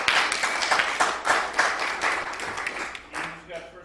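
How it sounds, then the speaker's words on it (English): Audience at a Baltimore civic hackathon clapping in a steady round of applause, moderately loud and close, with voices talking over it. "Give yourselves a big round of applause."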